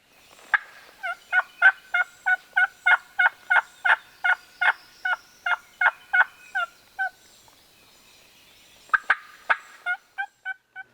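Wild turkeys gobble at daybreak, a long rapid series of clear, evenly spaced gobbles, a short pause, then a second burst, carrying strongly over quiet surroundings with no talk.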